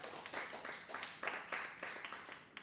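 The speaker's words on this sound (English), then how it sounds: "A big round of applause to all the winners" Applause for award winners at a virtual Statistics Day celebration, a steady thin patter of many clapping hands with a muffled, narrow-band quality, moderately faint throughout.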